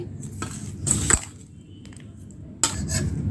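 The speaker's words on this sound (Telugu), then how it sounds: "మొత్తాన్ని ఒకసారి స్పూన్తో కలపాలి" A spoon stirs dry semiya sweet with raisins and grated dry coconut in a metal pan, giving scraping clinks with a few sharper knocks of utensil against the vessel, up close and with no talk.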